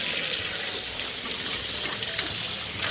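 Fresh tomatoes are washed under a running kitchen tap, giving a steady, close hiss and splash of water that continues unbroken throughout, with no voices.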